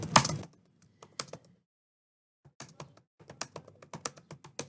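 Typing on a computer keyboard during typing practice: a quick burst of keystrokes, a pause, then a steady run of close, crisp key clicks, heard alone without speech.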